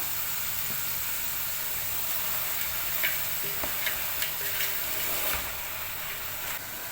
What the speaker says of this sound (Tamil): இதை வதக்கி விட்டுருங்க. வெங்காயத்தை சேர்த்துட்டு இதில் கொஞ்சமாக உப்பு சேர்த்துருங்க.